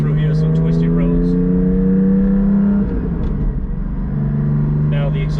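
Porsche GT4 sports car driven on twisty roads with its exhaust valves held open, a steady loud engine drone with strong low harmonics that dips briefly midway as if shifting, then resumes; no talk.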